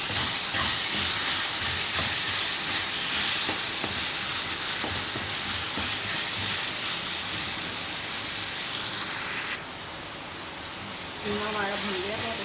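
Minced keema frying in a karhai with lemon juice, a loud dense sizzling hiss that runs close and steady, briefly easing toward the end before a faint voice breaks in.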